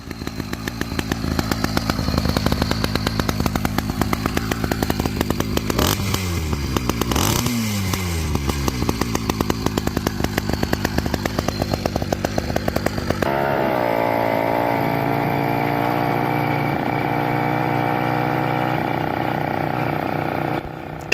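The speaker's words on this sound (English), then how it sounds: "Today, we are going to be doing a little bit of break-in work on this engine." A Phantom 85 Wraith motorcycle engine runs steadily during break-in, a loud continuous throb with rising and falling revs in the first half, then settling into an even idle-like drone.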